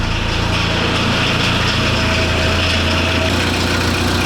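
A Volkswagen T3 van's newly replaced engine runs steadily at idle, a loud continuous buzzing drone with a low rumble underneath, close by and unbroken, with no talking.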